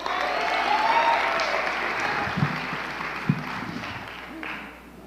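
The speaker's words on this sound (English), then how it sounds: "Can we give Carolina another round of applause?" A round of applause from the crowd at an environmental justice awards celebration, steady clapping with a few whoops and murmuring voices mixed in, tapering off at the close.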